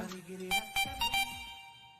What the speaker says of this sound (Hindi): तिवारी जी का फोन